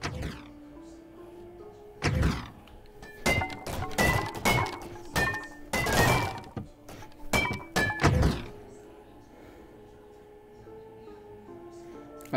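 Smashing furniture and objects with a bat in a hotel room in Hotel R'n'R: a run of heavy thunks, crashes and clinks at uneven intervals, close and loud, with a musical tone underneath and quieter stretches at each end.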